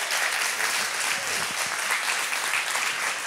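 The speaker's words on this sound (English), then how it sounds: "can we give a round of applause for our worship team too?" A church congregation claps steadily in sustained applause for the worship team during a Sunday service, a dense, even wash of clapping filling the room.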